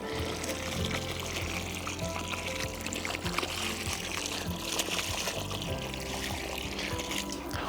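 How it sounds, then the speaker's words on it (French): Water poured into a planting hole around rose roots, a continuous close gurgling pour and splashing throughout, without talk. "je vais venir colmater la terre autour des racines du rosier en y versant de l'eau dans le trou"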